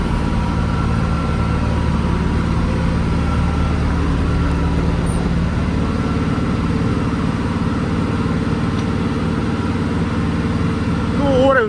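A Chinese tractor engine drones steadily under heavy load while pulling a plough through wet, deep soil during ploughing, a loud continuous low rumble with even harmonic tones, with someone talking over it.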